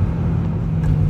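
A BMW E93 M3 convertible engine pulls hard at full throttle, a steady deep droning rumble that stays loud and close throughout the short stretch, with no talk over it.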